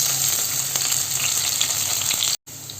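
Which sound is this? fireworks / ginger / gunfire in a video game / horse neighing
ginger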